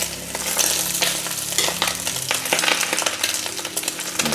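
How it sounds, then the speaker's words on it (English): A rib and onion omelette fries in ghee in a pan, giving a steady, loud, close sizzle and crackle throughout with no talking. "I'm gonna just give her a little flip here, make it look like an omelet."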